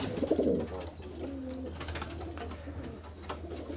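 Pigeons coo in a couple of soft, low phrases near the start and middle of a short stretch, with faint chirps above and a steady background hum, the birds kept as show pigeons in Veria.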